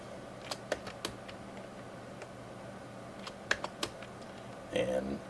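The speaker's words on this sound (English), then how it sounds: "now if I start typing @ over here" Quiet, scattered keystrokes on a computer keyboard, a few isolated clicks spread across the stretch, then a brief burst of faster taps near the end, with faint room noise underneath.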